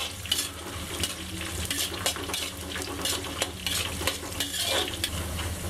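Green chilies, curry leaves and peanuts are stirred and fried in a pan, with a steady crackling sizzle broken by repeated scraping and clinking of a spoon against the metal.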